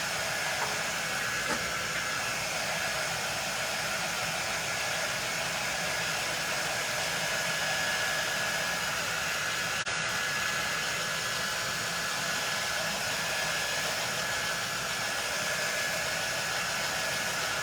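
A dryer blows steadily on a botanical craft piece, a continuous close whooshing hiss that holds at an even level throughout with no pauses or talking.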